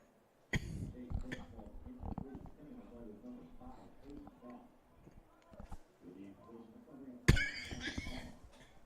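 A man coughs and clears his throat in bursts throughout, close and fairly loud, at a high school playoff football game between Jones and Lindsay, with a sharp louder outburst near the end.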